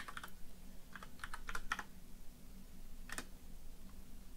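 A command is typed on a computer keyboard during an embedded-device debugging session: scattered quiet key clicks in short bursts with pauses, close and faint, with no speech.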